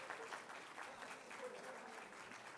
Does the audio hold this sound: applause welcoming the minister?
yes